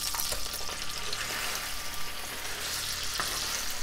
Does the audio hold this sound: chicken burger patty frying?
yes